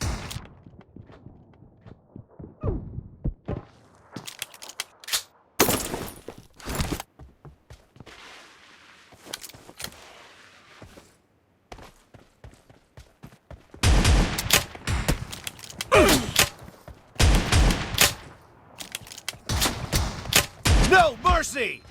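Shotgun blasts in the mobile battle royale game PUBG Mobile during a one-on-one shotgun duel, loud sharp shots in irregular bursts, heaviest toward the end, mixed with footsteps and shuffling movement between shots.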